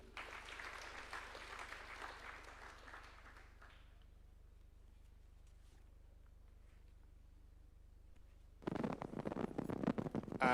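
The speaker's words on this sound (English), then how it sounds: "A round of applause for him." A round of applause for a newly sworn-in Environment and Land Court judge at a State House ceremony in Nairobi, moderate clapping that fades to near silence midway, then a loud burst of sound returns near the end.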